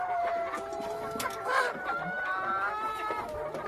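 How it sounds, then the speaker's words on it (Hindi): An Australorp hen clucks and murmurs with drawn-out, wavering notes, other fowl faintly around, a quiet farmyard backdrop. "और प्योर ऑस्ट्रेलॉप मुर्गी है।"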